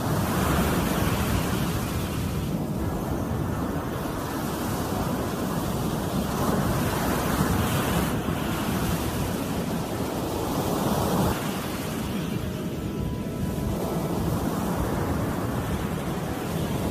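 Ocean surf rolls steadily onto a shore, a continuous broadband wash of breaking waves with gusty wind noise on the microphone, loud and unbroken throughout.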